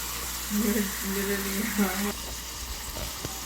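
Onion sautéing on its own in a pan for huevos rancheros, a steady soft sizzle and fry noise running throughout with brief stirring scrapes, heard under a voice talking in the first two seconds.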